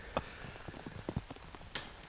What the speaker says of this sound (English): With all this rain that's coming in